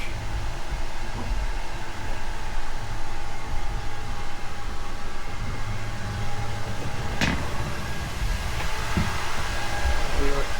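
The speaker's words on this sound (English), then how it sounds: "Double generators in the back." Steady, loud mechanical drone of twin generators running in the enclosed engine room of a Pershing 8X yacht, a constant hum with a brief sharp clank partway through.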